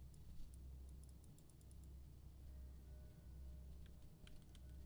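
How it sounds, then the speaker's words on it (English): Scattered quick clicks of computer keyboard keys pressed in short irregular bursts, faint and thin over a low steady hum. "I'm pressing every key on my keyboard."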